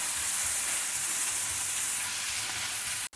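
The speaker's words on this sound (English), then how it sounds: "Add the chopped onion. Saute the onions till they are golden." Chopped onions sauteing in about two tablespoons of oil in a pan for a South Indian mixed vegetable gravy, a loud, dense, continuous sizzle heard up close, cutting off abruptly near the end.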